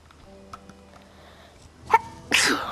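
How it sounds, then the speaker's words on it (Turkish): A single sharp sneeze, close and sudden, after a moment of near quiet. "Hayır, hapşırdım."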